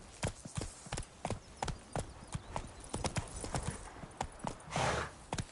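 A horse in The Witcher 3: Wild Hunt gallops with quick, rhythmic hoofbeats on the ground, fairly close and steady, ending in a brief snort, with no voices over it.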